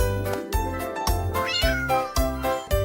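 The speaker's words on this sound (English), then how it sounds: "It's a black cat." A black cat meows in a quick series of about five or six bright, tonal cries, close and loud. Each cry is separated by a short pause, with no talk over it.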